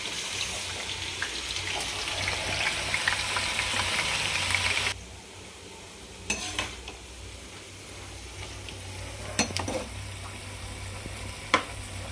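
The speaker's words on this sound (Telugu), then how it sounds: "హై ఫ్లేమ్లోనే ఉంచుకొని రెడ్ కలర్ వచ్చేలాగా ఫ్రై చేసుకోవాలి బెండకాయలని" Okra frying on high flame in hot oil, with a steady sizzle that drops sharply partway through to a quieter crackle, broken by occasional clinks of a utensil.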